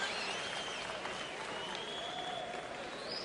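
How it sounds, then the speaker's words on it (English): Crowd at a boxing event applauding and cheering a boxer's arrival, a dense steady wash of clapping with a faint voice running over it. "Robert Guerrero turning up and being cheered by the crowd."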